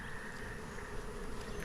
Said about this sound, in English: These are very docile bees.